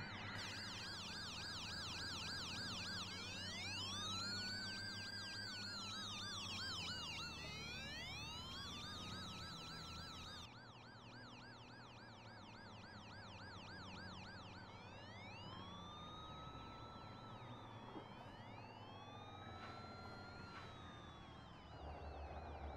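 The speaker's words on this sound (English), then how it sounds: "let's see if we get the police cars to follow me into the warehouse" Police car sirens in a trucking video game wail continuously, several overlapping rising and falling tones cycling together through the whole stretch, loud and close with a steady vehicle rumble beneath.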